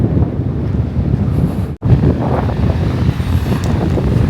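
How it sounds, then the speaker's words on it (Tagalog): Strong ocean surf at an empty beach in Japan, a constant heavy roar of waves mixed with gusting wind buffeting the microphone, a brief dropout partway through. "Nakita niyo po yun, sobrang lakas ng alon."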